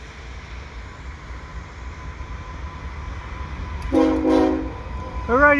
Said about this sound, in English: We'll see what the train is here.